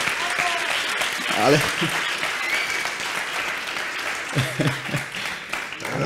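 Conference attendees at an Odoo meeting applaud, a sustained clapping that runs beneath voices and laughter, with a few scattered louder claps standing out.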